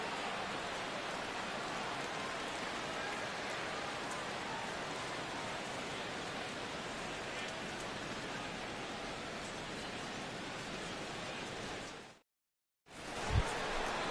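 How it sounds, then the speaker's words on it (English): Rain falling on a stadium during a baseball game in MLB The Show 16, a steady dense hiss with no commentary that holds for most of the span, then cuts out briefly before resuming. "the rain continues to fall here"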